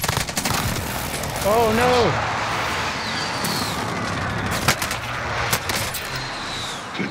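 Gunfire in a Call of Duty Rebirth Island match with a Mac 10 loadout, dense rattling bursts and sharp individual shots mixed with explosive booms, while a player shouts briefly over it.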